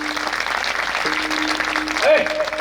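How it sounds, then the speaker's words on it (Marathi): Audience at an Akhand Harinam devotional kirtan gathering claps together in a dense, steady stream, with a sustained musical tone running underneath. "जोरात टाळ्या वाजवायच्या"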